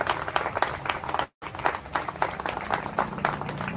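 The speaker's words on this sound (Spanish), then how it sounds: "Dale un aplauso al Señor, hermano, en esta noche." A church congregation breaks into sustained, dense clapping during an evening service, broken by one brief dropout, with faint voices mixed into the applause.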